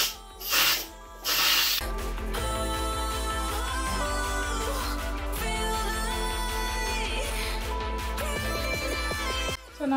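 A Mika pressure cooker vents steam in two short, sharp hissing bursts at the start. Steady background music with a regular beat then carries on and covers the rest.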